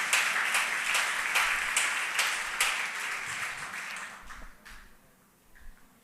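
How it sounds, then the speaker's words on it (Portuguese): A church congregation applauds with steady, dense clapping that fills the room, then thins out and fades to near silence. "Aplaudo o nome de Jesus."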